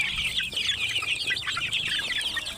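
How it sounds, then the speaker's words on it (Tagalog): Backyard chicks being fed, their busy high peeping and clucking continuous and close throughout, with no talking. "patuka tayo ng sisiw"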